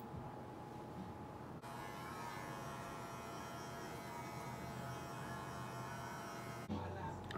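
Electric hair clippers fitted with a number one-and-a-half guard hum steadily through a crop top fade haircut, a close, even buzz with a brief change in tone near the start and end.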